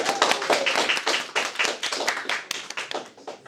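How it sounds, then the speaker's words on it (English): A small audience, likely students at a school senior project presentation, claps in a steady round of applause that is close and loud at first and gradually thins out. "give a round of applause"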